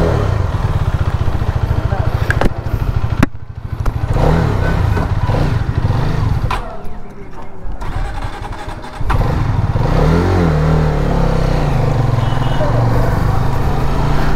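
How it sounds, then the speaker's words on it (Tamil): A KTM motorcycle engine revs loudly while being ridden, its buzzing note rising and dropping through gear changes and throttle blips, steady and close throughout with wind noise and the rider talking over it. "சவுண்டுமே கேடிஎம் சவுண்டு."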